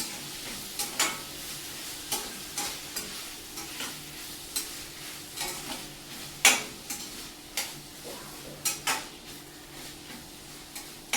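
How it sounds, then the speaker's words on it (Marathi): Curry leaves frying in a pan give a continuous light sizzle, punctuated by regular sharp ticks and clinks of stirring against the pan, close up with no voices. "आता फ्राय करून घेते."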